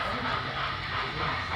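A model train, the 611 locomotive, runs on a club layout in Hendersonville, North Carolina, giving a steady close rolling clatter and hum with no clear breaks.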